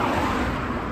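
Road traffic rolls by close at hand on a night street in Manchester, a steady broadband engine and tire roar with no clear individual pass.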